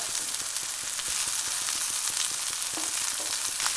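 Zucchini rounds browning in a large skillet hiss with a steady, dense frying sizzle, close and constant throughout, dotted with small pops and crackles.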